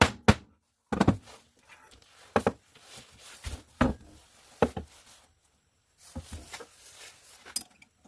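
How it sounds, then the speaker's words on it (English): A hammer strikes a disc cutter to punch blanks from brass sheet, giving sharp metallic thunks in an irregular series of loud, close hits with quiet gaps between them and no talking. "I just hit it with a hammer"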